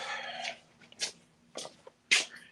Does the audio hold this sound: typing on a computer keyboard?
no